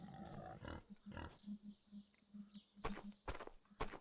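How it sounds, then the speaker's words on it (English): Pigs in their pigsty pens on a farm grunt and snort in low, rhythmic bursts, with a few sharper squeals and rustling knocks close by. "And this is now our pigsty. All the pigs have pens."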